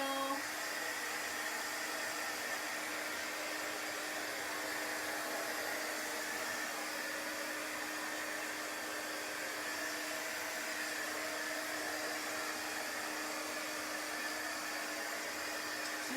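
Hair dryer blowing on freshly applied chalk paint, a continuous steady whirring roar with an even airflow hiss that holds unbroken throughout.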